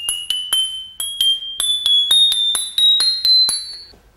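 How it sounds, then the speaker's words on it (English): A robotic quarter-tone instrument plays a quick run of bright, bell-like struck tones, each a quarter tone higher than the last, ringing clearly with short gaps between them. "it is a quarter tone instrument"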